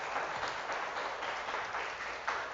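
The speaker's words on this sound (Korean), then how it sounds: "우선 환영의 박수로 맞이해 주시면 좋겠습니다." A church congregation applauds to welcome visitors, a steady wash of many hands clapping throughout the room without pause.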